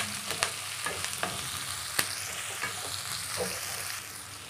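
Drumstick leaves and garlic sizzle in hot oil for a Tamil murungai keerai poriyal, a steady fry broken by a few sharp clicks and scrapes of stirring, close and fairly quiet, with no one talking.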